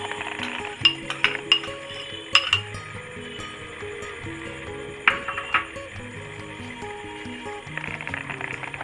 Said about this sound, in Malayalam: നല്ലവണ്ണം മിക്സ് ചെയ്ത് കൊടുക്കാം.